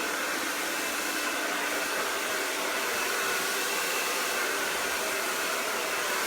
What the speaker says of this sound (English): That's why I blow dry a little to the left, a little to the right.